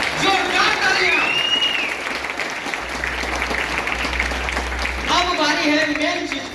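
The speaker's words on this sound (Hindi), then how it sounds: "जोरदार तालियां।" An audience at an Indian network-marketing rank promotion event gives loud applause, a dense wash of clapping sustained for several seconds, with a voice speaking over it near the start and again at the end.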